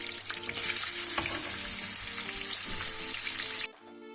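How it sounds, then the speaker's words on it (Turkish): Grated onions frying in melted margarine and oil, a steady broadband sizzle with faint stirring clicks, close and continuous for most of the clip before cutting off abruptly near the end. "Şimdi 2 adet büyük boy rondadan geçirdiğim soğanımı ekliyorum."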